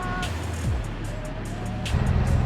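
Toyota FJ Cruiser off-road vehicles rolling on a camping trip: a steady low engine and road rumble close by, with the drone deepening and swelling toward the end, no talk.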